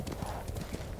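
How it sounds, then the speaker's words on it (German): A horse gallops with steady clip-clop hoofbeats and heavy snorting through a wintry landscape in Ghost of Tsushima, continuous and fairly close, with faint game ambience behind. "das Pferd hat ordentlich zu schnauben"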